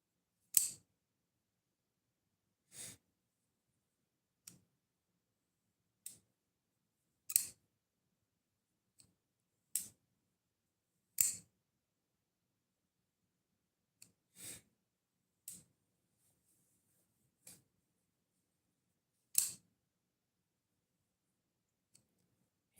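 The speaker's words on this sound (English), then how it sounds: "what's that clicking sound? Oof. I'm playing with a knife." A knife being played with, giving sharp isolated clicks at irregular intervals of one to three seconds, close and crisp over near silence.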